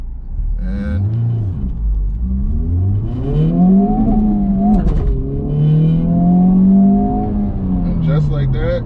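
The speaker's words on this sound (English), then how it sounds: "I'm gonna do a launch and show you guys how to launch this car" 2023 Honda Civic Type R doing a launch, engine revving then pulling hard through rising and shifting pitches, loud and close from inside the car, with a voice talking over it.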